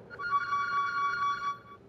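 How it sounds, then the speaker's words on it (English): A phone ringtone plays a steady, bright electronic tone for about a second and a half, then cuts off. "Answer the phone."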